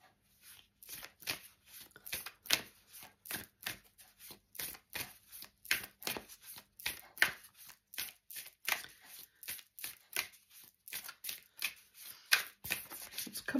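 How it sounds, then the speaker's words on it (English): A deck of tarot cards being shuffled for a reading, a quiet, close run of crisp riffling slaps in a steady repeating rhythm, heard alone. "So let's get to pulling the cards."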